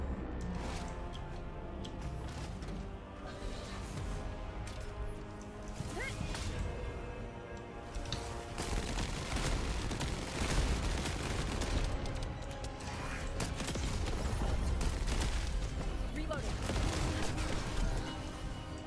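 Continuous AK rifle fire mixed with crashing impacts during a boss fight in The First Descendant, a loud, dense barrage of shots running throughout, with talk and game music underneath.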